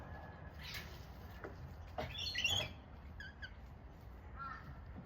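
A pet lorikeet gives a few sharp, scattered chirps and squeaks at moderate distance in a quiet room, with brief gaps between calls.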